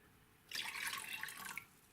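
Apple cider vinegar pours into a saucepan in a steady, splashy stream of liquid lasting about a second, close by and moderately loud, with no talking.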